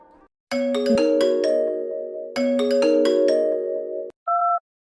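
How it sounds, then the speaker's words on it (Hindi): A phone plays a melodic ringtone, two bright bursts of tonal notes over a sustained chord, then a short electronic two-tone beep at the end. "तभी उसका फोन बजता है।"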